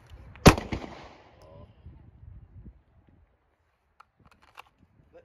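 A single sharp, loud handgun shot at a shooting-class range, followed by faint shuffling and a few small clicks in near quiet.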